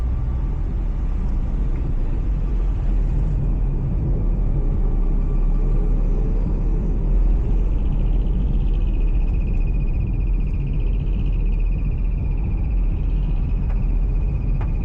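A pickup truck pulling away at night, heard as a continuous low engine rumble and road noise that holds steady, with a faint whine rising partway through and no talking.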